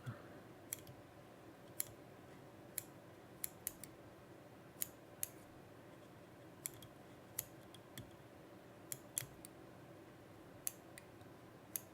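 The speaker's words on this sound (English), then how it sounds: "Trim this dubbing up just a little bit." Small scissors trimming dubbing on a golden stonefly fly-tying pattern, a dozen or so crisp, quiet snips scattered irregularly over a faint steady room hum.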